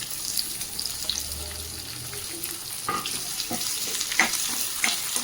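Onions fry in a pan with turmeric and curry leaves for masala aloo, a continuous close sizzle with scattered crackles and stirring scrapes.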